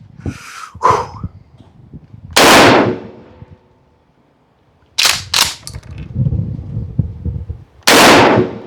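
A Mossberg Maverick 88 12-gauge pump shotgun fires several separate, loud, close blasts, each a sharp crack with a short tail, spaced a few seconds apart with quieter handling noise in between.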